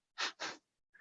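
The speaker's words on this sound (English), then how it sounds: "It's in and out through the nose. It's real quick." Two quick, sharp breaths through the nose, an inhale then an exhale, close and clear, followed by a brief fainter sound.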